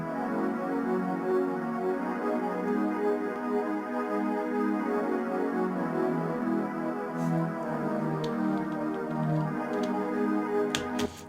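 Analog synthesizer chords play in a steady, continuous pad of held harmonies, full and sustained throughout, with a few faint percussive clicks near the end.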